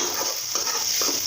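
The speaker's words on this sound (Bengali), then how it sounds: "এখন আমি শাক বাগারের জন্য পেঁয়াজ রসুন ভেজে নিচ্ছি।" Onion and garlic frying in oil for tempering fenugreek greens: a steady close hiss of sizzling with a few soft scraping stirs in a quick rhythm.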